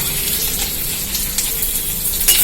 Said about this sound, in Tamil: இந்த கடுகு உளுந்த பருப்பெல்லாம் பொரிஞ்சிருச்சுப்பா.